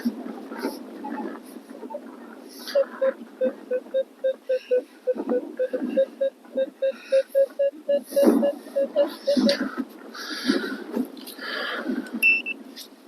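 A Minelab Equinox 900 metal detector sounds a run of rapid, evenly spaced beeping tones, with a quieter tone at the start and more scattered beeps near the end, against low outdoor background noise.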